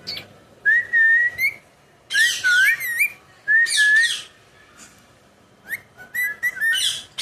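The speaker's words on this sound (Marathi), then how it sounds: "ओरडली हो रॉकीची शिट्ट्या" A bird whistles in repeated bright, warbling phrases with short pauses between them, close and clear against a quiet room.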